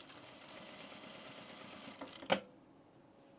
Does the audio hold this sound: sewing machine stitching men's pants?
yes